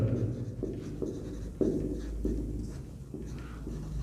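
Chalk or a marker scratches out an equation on a board in a classroom math lesson, with a series of short strokes and taps in an uneven rhythm, close and clear.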